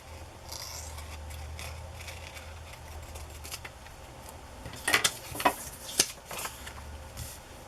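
Scissors snip through paper around a drawn heart shape for a handmade craft piece, giving a few sharp, close clicks and crunches in a quiet room.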